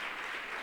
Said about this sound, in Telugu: పిల్లలు మీకు మీరే ఒకసారి చప్పట్లు కొట్టుకోవాలి.